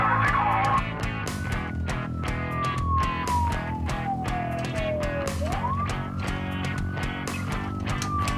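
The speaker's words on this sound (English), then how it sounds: "Police car." A police car siren wails in a long sweeping tone that falls slowly and then rises again, heard over a loud, rhythmic backing track in a children's vehicle-learning song.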